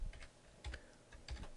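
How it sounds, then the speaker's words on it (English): Fingers type on a computer keyboard entering a math function into a worksheet, three short clusters of soft, close key clicks separated by brief pauses. "So you click on the worksheet and you start typing."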